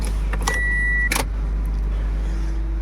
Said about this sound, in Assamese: এতিয়া ইন'ভাখন ষ্টাৰ্ট দি লওঁ, অলপ ইঞ্জিনটো গৰম কৰি লওঁ